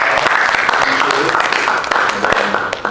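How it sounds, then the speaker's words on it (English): Audience applause for a media director at an Air Force ROTC workshop, a brisk continuous patter of clapping close by with a voice talking over it. "A round of applause for our media director."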